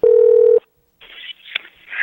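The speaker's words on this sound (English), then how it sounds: "We're going to the phone lines." A call-in phone line on a teen talk show gives a steady telephone tone for about half a second. After a short silence comes a noisy crackling line with a brief beep-like blip.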